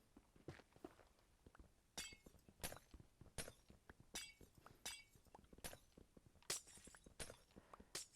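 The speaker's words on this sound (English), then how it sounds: "I hope Twitch chat enjoys the sound of glass breaking because that's all that you're hearing with my glowstone breaking" Glowstone blocks break in Minecraft with sharp, glassy shattering crunches, about a dozen in quick succession at an irregular rhythm, close and crisp against a quiet background.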